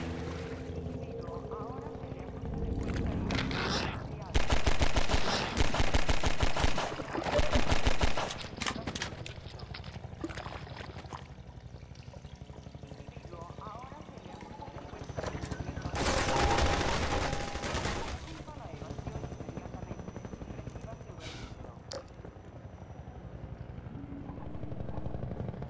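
Gunfire in a Half-Life video game, fired at a barrel, comes in loud clattering bursts separated by quieter stretches of game ambience and a droning engine.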